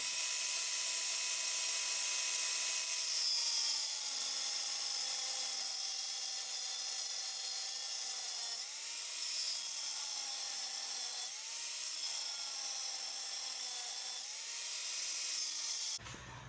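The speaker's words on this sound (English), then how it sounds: "All right, so we got it cut with the cutoff wheel, actually." A cutoff wheel slices through a metal part during a V8 engine swap on a Solstice kart, giving a loud, continuous high-pitched whine that rises and dips slightly in pitch for about sixteen seconds before cutting off.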